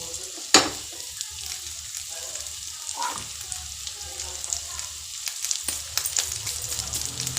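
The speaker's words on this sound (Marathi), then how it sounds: "आणि फ्राय करून घ्यायचं." Pomfret fish frying in a pan over medium heat, a steady soft sizzle with scattered crackles and a few sharper pops, fairly quiet and close.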